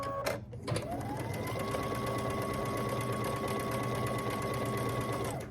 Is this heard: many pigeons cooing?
no